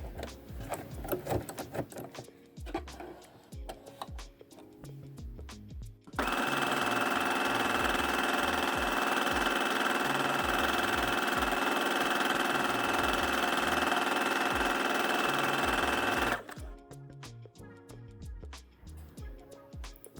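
A sewing machine runs steadily for about ten seconds, a loud, even mechanical whir between quieter stretches of handling noise.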